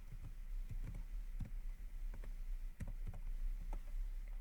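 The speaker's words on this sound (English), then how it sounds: "Here on the command, just type Python." Keys tapped on a computer keyboard while entering a command at a Windows 10 command prompt, a quiet, irregular run of light clicks close by with no talking.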